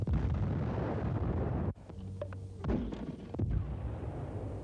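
WWII mortar explosion in the battle for the Rhine: a heavy, loud roaring blast rumbles steadily, cuts off abruptly, then gives way to lighter scattered bangs and another rolling boom, with no voices.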